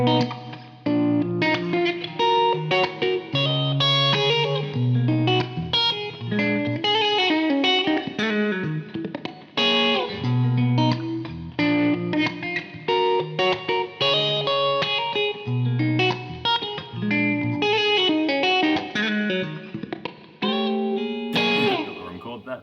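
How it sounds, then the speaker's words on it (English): An electric guitar on its middle pickup plays a continuous run of strummed chords and picked notes through effects with distortion and chorus, loud and close, ending with a few bright high notes. "Let's hear the middle pickup now."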